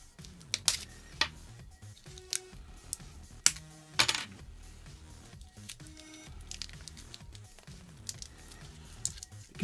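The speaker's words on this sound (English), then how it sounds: "So let's just get the cellophane off this first." Cellophane wrapping crackles and tears as it is pulled off a boxed Yu-Gi-Oh art book, with scattered sharp rustles and crinkles close by, no voices.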